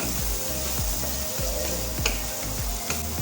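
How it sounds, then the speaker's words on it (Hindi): Tomato masala with salt, turmeric and red chili powder frying steadily in a pan, a continuous close sizzle with a few brief scraping stirs and no voices. "इसका मसाला इस तरीके से जब भुन रहा होगा"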